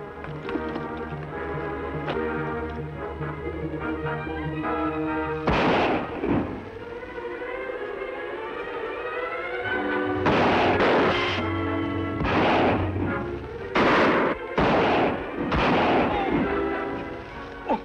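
Gunshots fired in a western shootout to hold back attackers: a loud report, then a cluster of five or six sharp cracks spaced a second or so apart, heard over a steady background score.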